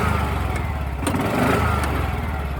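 A side-by-side utility vehicle's engine runs loud and close for nearly three seconds, swelling briefly as the throttle is floored and released, with a steady buzzing drone throughout.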